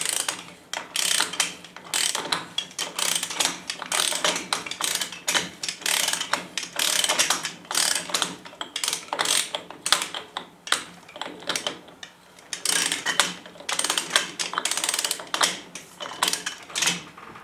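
A torque wrench ratchets and clicks while tightening the front wheel hub of a Willys Jeep CJ3A, producing rapid bursts of sharp metallic clicks in repeated runs with brief pauses between them, close and fairly loud.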